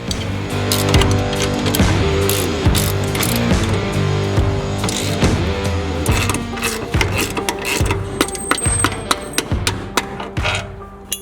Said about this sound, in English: Get these inner bolts off.